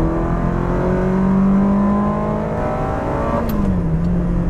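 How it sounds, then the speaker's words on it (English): A Ferrari 360 Modena's high-strung V8 with a gated manual revs hard close by. Its smooth rising wail climbs steadily, then drops in pitch as the revs fall away near the end. "here you have a Ferrari with a gated manual and a high-strung V8 that sounds like"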